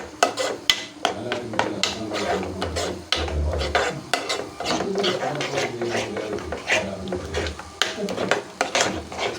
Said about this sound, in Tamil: மிக்ஸ் பண்ணிகிட்டே கிளறிட்டே இருந்தோம்